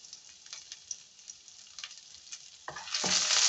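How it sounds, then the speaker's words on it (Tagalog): Chopped onions sauté in a pan for pancit canton, giving a soft, steady crackle that swells into a louder, denser sizzle near the end, with no talking. "Una, gisa ko muna itong sibuyas."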